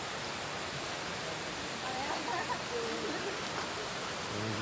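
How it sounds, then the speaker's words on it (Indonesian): Waterfall deep in the Kalimantan interior, a constant dense hiss of falling water at moderate level, with a faint voice briefly audible beneath the roar. "akhirnya sampai tempat yang dituju, yaitu air terjun"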